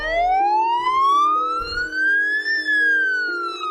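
A wailing ambulance siren rises and falls in a loud, steady sweep as it pulls up at a hospital during a busy stretch of arrivals, with a lower tone droning underneath.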